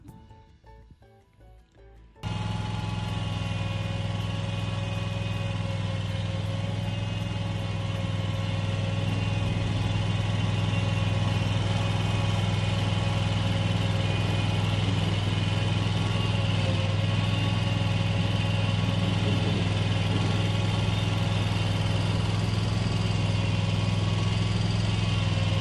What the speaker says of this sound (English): That Kubota lawnmower I got